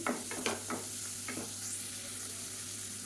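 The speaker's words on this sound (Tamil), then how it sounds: "பாருங்கள் நல்லா வதக்கி விட்டாச்சு." Food sizzles steadily in a pan while a utensil scrapes and stirs a few times early on, close and fairly quiet.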